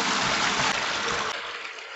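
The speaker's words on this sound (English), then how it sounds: "So we're going to add fresh water." Fresh hot water pours steadily into a basin for hand-washing white towels, a close, even rush and splash that softens slightly toward the end.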